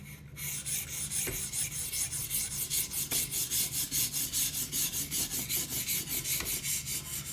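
A blade is drawn back and forth across a 400 grit stone in a guided sharpener, making a soft rhythmic rasp of even, repeated strokes, close and fairly quiet, with no one speaking.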